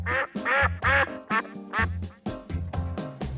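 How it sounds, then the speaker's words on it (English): Duck quacking in a run of loud, close, harmonic calls, several quacks in quick bursts with short gaps, alone without talk. "Ducks quack loudly, especially when they're excited or looking for their friends."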